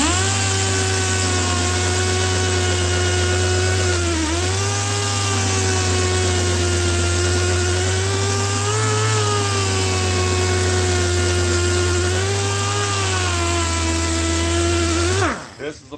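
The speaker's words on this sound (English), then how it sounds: "This is a powerful grinder." A powerful Bondo buster grinder tears into car seat foam with a loud, steady mechanical whine and rumble, its pitch dipping briefly under load a few times before the tool winds down abruptly near the end, heard close.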